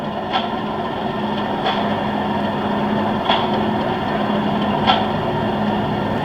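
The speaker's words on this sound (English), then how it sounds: "all these doors slamming as if a guard going along, closing all the doors" Train carriage doors slam shut one after another, four sharp knocks spaced a second or two apart over a constant low rumble, from a sound-fitted OO gauge model Class 37 diesel locomotive.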